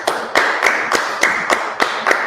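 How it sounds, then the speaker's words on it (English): People clapping in unison, eight sharp claps in a steady even rhythm, close and loud, with no talk over them. "All right, let's clap it up."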